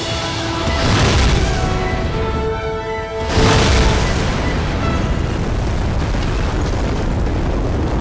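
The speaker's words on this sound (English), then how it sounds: "can we get a clip of the Moab or Napalm Bomb?" A massive MOAB bomb detonates in the Mercenaries 2 video game, a loud close roaring blast that swells, briefly dips, then erupts again into a long sustained rumble with no talking.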